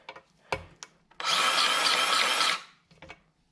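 Grease gun pumping grease into a shop jack, heard as a sustained, loud grinding hiss lasting about a second and a half, framed by several short clicks and knocks of handling.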